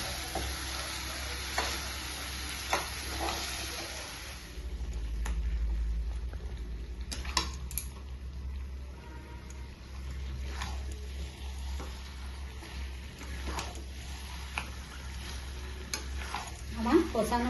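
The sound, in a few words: mutton being sautéed and stirred in a pan with water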